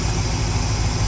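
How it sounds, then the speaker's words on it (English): A 1972 Ford F750 "Super Pickup" truck with an FE V8 idles smoothly and steadily, a continuous low rumble alongside the whoosh of a large fan, with no talking. "I'd say an engine's idling pretty smooth if you can pull that off"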